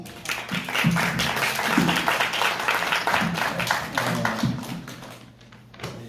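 Conference audience at an international sports conference claps for a closing speaker, a moderate, uneven patter of hands that rises, holds and thins out toward the end, with a voice briefly heard beneath.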